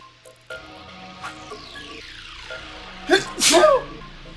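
A single loud sneeze bursts out near the end, preceded by a sharp intake of breath, over faint background sounds during a tangram puzzle game session.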